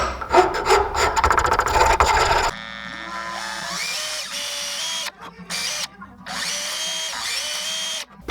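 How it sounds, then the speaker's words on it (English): A power drill bores pilot holes into a crankbait lure body, a buzzing whirr for a couple of seconds, followed by intermittent whining and rubbing tool sounds with short pauses between passes. "Pilot holes were just drilled."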